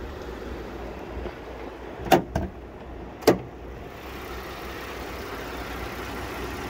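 Hood of a 2008 Lincoln MKX being opened: a couple of sharp mechanical clunks and a latch click stand out over a steady, low idle-like background hum, with a quieter pause before and after.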